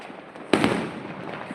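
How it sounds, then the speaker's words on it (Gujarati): A firecracker bursts loud and sharp at a nighttime celebration, followed by a crackling fade, set against a faint background of distant fireworks. "જો ફટાકડા ફૂટી રહ્યા છે રોકેટ પણ સડી રહ્યા"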